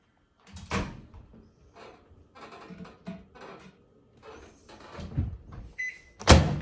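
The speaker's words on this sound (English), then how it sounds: "Let's hop it in the microwave." A microwave oven door swings open and shuts with a few soft clunks and a sharp closing thump near the end, recorded up close in a kitchen while a meal is prepared, with brief quiet handling noises between.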